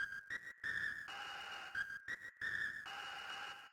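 A vocal sample processed in BandLab Sampler, producing a whistle-like synthetic tone with stepping pitches and choppy rhythmic cuts, played twice in a short repeating pattern.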